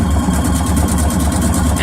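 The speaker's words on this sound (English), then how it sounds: "And then we're just going to start sewing." A Husqvarna Viking sewing machine running steadily while stitching quilt fabric for rail fence blocks: a loud, continuous motor hum with a fast, even mechanical patter throughout.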